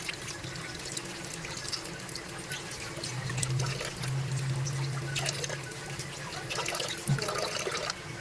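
Charcoal bits are rinsed off in water during Filipino home cooking, with a steady quiet trickle and splashing under a faint hum and scattered light clinks.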